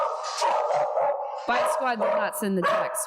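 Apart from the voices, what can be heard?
dog barking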